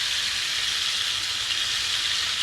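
Butter sizzling in a hot pan beside a searing steak, a steady dense hiss with no talk over it.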